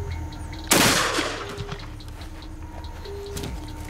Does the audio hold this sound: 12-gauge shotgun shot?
yes